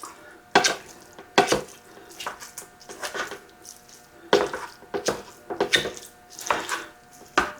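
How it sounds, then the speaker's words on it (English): Ground beef browning in a pan for a cheddar ranch casserole, broken up with a utensil: a series of sharp scraping clatters and knocks against the pan at irregular intervals over a faint background, close, no talking. "get this ground beef browned"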